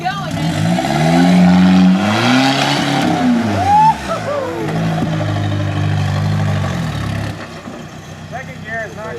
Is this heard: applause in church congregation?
no